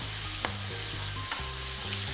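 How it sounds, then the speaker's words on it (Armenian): Raw spinach leaves frying in a pan with softened onion for spinach and cheese ravioli filling, a steady close sizzle with short stirring scrapes through it, no talk. "Այս կերակուրի մեջ սպանախը սկսում ենք տապակել հում վիճակում"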